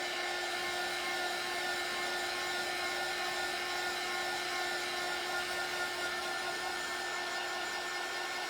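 A hair dryer blows steadily on chalk transfer paste during a Chalk Couture craft project, making a loud, constant whirring hum with a high motor whine that never changes.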